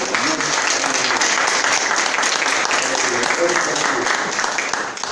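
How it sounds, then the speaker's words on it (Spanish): A church congregation at an Easter service in a Mennonite church bursts into dense, loud applause that holds steady throughout, with voices mixed into the clapping. "Le damos la bienvenida con un fuerte aplauso al Señor."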